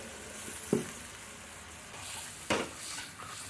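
Mutton frying in a pan after bowl-rinse water is added, a steady soft sizzle throughout, close but fairly quiet, with two brief stirring knocks.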